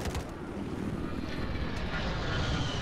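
A scout helicopter flies in the game Battlefield 4, its rotor and engine making a dense, constant roar that stays loud and close without a break.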